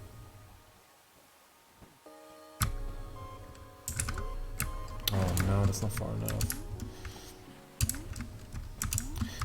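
Computer keyboard keys pressed repeatedly during a game of Fez, with soft tapping clicks running under game sounds and a voice.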